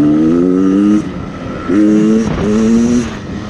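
A 2019 Beta 300 Xtrainer two-stroke enduro motorcycle revs hard close by, its buzzing engine note climbing in three loud bursts separated by brief drops in throttle.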